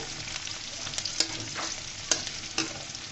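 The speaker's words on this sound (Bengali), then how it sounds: "দেখুন বন্ধুরা ভাজা হয়ে গিয়েছে" Cauliflower stalks fry in a pan with whole cumin seeds, giving a steady sizzle broken by a few sharp scrapes and knocks of a stirring utensil.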